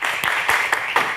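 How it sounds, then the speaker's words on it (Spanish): Audience applause for all the teams at a Bible quiz event, a steady broad wash of clapping with several sharper surges, loud and continuous through the short stretch. "Un fuerte aplauso, por favor, para todos los equipos."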